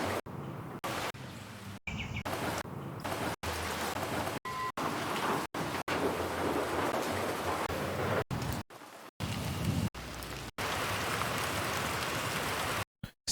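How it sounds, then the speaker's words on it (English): Steady rain patters as a background ambience, with a faint distant thunder rumble and an occasional bird, the continuous hiss broken by abrupt brief gaps of silence. "Let's add some rain to the background,"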